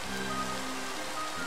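Steady, dense rain falling in the Minecraft video game, a continuous even hiss filling the scene with no breaks and no voices.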